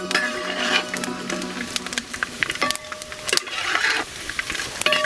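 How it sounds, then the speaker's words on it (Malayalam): Fried coconut pieces browned in coconut oil scooped from a pan into a bowl, with repeated scraping and clattering of a spoon against metal over a light sizzle, close and busy throughout. "ഇനി നമുക്ക് തേങ്ങയെ ഈ പാത്രത്തിലേക്ക് ഒന്ന് കോരി മാറ്റാം."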